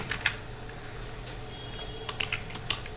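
Quick, light key clicks on a computer keyboard, close and fairly quiet, arriving in an uneven burst of taps over a steady room hiss, with nobody speaking.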